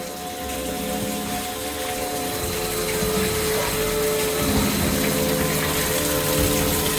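A steady stream of water pours from a pipe or culvert bend at the source of a small urban creek, a continuous close rushing wash holding even throughout with no talk.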